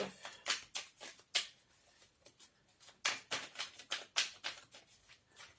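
Tarot cards being shuffled by hand, a series of quick papery riffles and soft slaps in irregular bursts, close and fairly quiet, with brief pauses between them.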